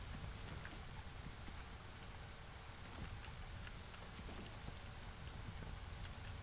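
Steady rain falls in the video game Against the Storm, where workshops use rainwater to turn a water wheel, making a constant dense hiss with scattered drop patters throughout.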